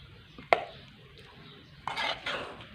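A spoon scrapes and clinks as cooked dum-style okra is served onto a plate, one sharp clink followed by quieter scraping and shuffling of food, close and fairly soft.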